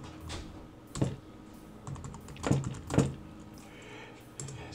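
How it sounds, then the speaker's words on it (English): Keystrokes on a computer keyboard, a few soft, separate clicks and taps at an irregular pace, close and fairly quiet, with no voices. "so I just typed this as a test"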